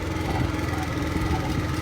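A motorbike engine runs steadily while riding, a close, continuous buzzing drone with a fluttering low-end pulse and no breaks.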